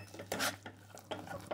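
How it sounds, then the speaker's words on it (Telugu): A spoon scrapes and clinks against a pan while gongura walnut chutney is stirred, a few quick metallic strokes close by and fairly quiet. "ఈ విధంగా అంతా మిక్స్ చేసుకోవాలి."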